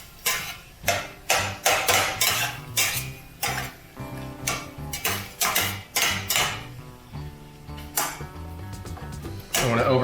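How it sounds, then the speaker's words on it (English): Ground beef being stirred in a pan, a spatula scraping and clacking against the metal in quick irregular strokes, close and fairly loud, with no talking. "let me stir the beef, which is almost there"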